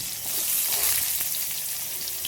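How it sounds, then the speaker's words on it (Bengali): Big-cut sliced onions fry in hot oil tempered with black cumin, giving a steady, close hiss and crackle that runs alone without pause or talk. "পেঁয়াজগুলো সব দিয়ে দিচ্ছি।"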